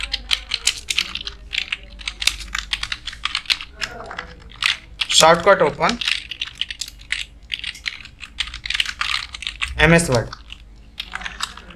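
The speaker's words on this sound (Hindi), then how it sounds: "मैं एक बार यहाँ पे टाइप करके मैं लिख भी देता हूँ" Keys clatter on a computer keyboard in quick close bursts, typing in an MS Word computer class, while someone talks over much of it in Hindi.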